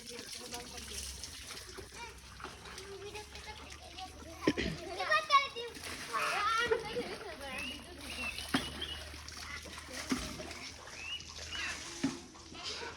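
Water splashes as people bathe under a running motor-driven water pump outdoors in hot weather, irregular splashes and pours mixed with children's voices and chatter throughout.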